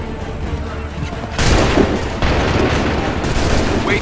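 Musket volleys crack out in a loud, dense battle scene from the video game Assassin's Creed III, with sharp bursts near 1.4 and 2.2 seconds standing over a continuous roar of gunfire and commotion.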